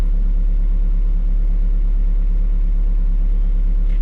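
A modified car engine with changed camshafts and a larger water pump pulley idles at fairly high revs, producing a steady, loud, close low rumble with an even pulsing beat and no talk.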